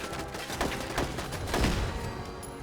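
Turret gunfire in the game Fallout 4: dense, continuous bursts of rapid shots with thumping impacts, loud and sustained throughout.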